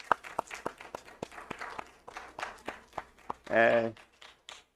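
A small church congregation at a Wednesday evening service claps, producing sparse, uneven individual claps spaced out like scattered hands, with a voice speaking briefly over them near the end.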